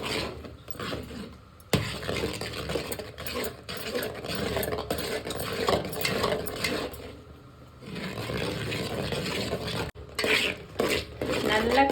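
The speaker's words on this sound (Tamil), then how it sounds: "நல்லா கட்டி இல்லாத கலரி விடுங்க." A spoon stirs and scrapes through rice flour, jaggery and milk in a metal pot for kada prashad, making repeated close clinks and swishes with brief pauses between bursts.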